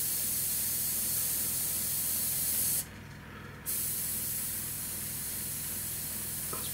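A Gaahleri Swallow pistol grip airbrush sprays paint with its cap off as a steady close hiss, which cuts out for under a second midway and then resumes at a slightly lower level.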